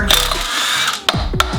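Impact wrench spinning out Subaru EJ-series clutch and flywheel bolts: a loud rattling burst up front, then two quick hammering hits with a spin-down, close and unaccompanied by talk.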